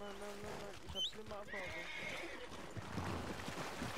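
In a snowy Wild West video game, a horse whinnies with high, quavering cries as hooves thud and clatter nearby, with people talking over the scene and a sharp knock at the very end.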